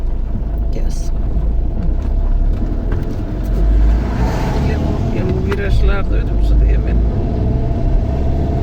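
A car approaching along a road in Antalya, its engine rumble swelling and passing near amid steady outdoor noise, with people talking while walking.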